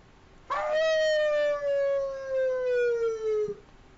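A voice imitates a howling dog with one long, loud, steadily falling howl lasting about three seconds, clear against a quiet background.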